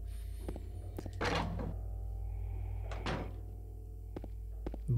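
Door handles being tried in Silent Hill 2: two loud rattling thunks of a locked door, each followed by a short clatter, over a constant low hum with a few faint clicks.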